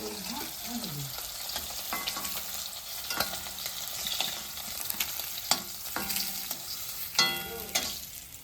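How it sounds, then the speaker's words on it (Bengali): Hilsa fish and eggplant fry lightly in oil in a pan, a steady sizzle broken by repeated scraping stirs and clinks of a spatula, close and fairly loud throughout. "হালকা একটু কম কম ভেজেই উঠাবো হালকা ভাজা"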